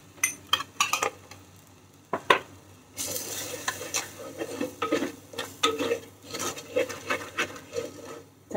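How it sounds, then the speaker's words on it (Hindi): Spices are stirred and roasted in a pan, with repeated close scrapes and clinks of a spoon against metal over a soft sizzle, irregular strokes after a brief quieter opening. "सारे मसाले जो है उनको भी हम हल्का हल्का भून लेते हैं।"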